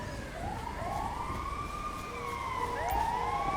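Emergency vehicle sirens wail in the video game GTA 5 at the Redwood Lights track: several rising and falling tones overlap at moderate distance over a low background rumble.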